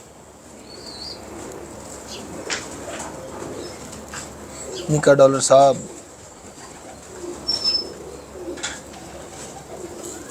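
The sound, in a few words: pigeons cooing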